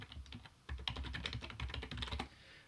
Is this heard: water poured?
no